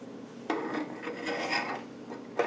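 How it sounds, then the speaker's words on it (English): A gearbox casing piece slides over its studs during reassembly, giving a dry metallic rasp and scrape with a sharp onset, then a steady rubbing, and a second short scrape at the end, close and alone. "Slide it over the studs,"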